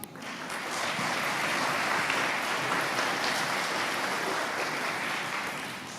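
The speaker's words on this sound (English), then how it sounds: "Let's give that crew another round of applause." Steady applause from a school audience at an elementary school assembly for a science demonstration crew, a dense sustained clapping heard alone without talk.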